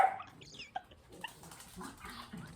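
A dog whimpers in a kitchen with several soft, high whines and a sharp little yip, faint and close. Quiet shuffling and rustling fill the gaps between the cries.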